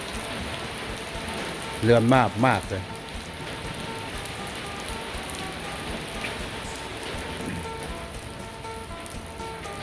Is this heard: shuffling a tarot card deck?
no